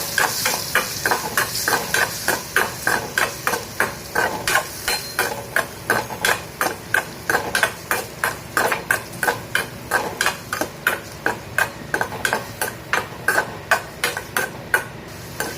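Paneer stir-fried in a pan with a spatula, giving a fast, steady rhythm of close metallic taps and scrapes over a light sizzle for about fifteen seconds.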